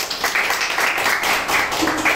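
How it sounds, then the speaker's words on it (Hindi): A crowd at a college award event for a university topper breaks into a loud, dense round of clapping, steady and sustained throughout with no pauses. "एक बार जोरदार ताली"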